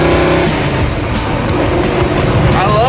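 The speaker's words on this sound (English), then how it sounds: "This may be the fastest this car's ever gone." A vintage circle-track Dodge Charger driving fast, its engine roaring loud and steady from close range as people talk over it.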